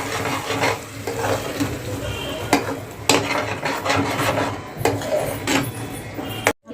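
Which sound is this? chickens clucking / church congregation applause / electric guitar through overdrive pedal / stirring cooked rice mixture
stirring cooked rice mixture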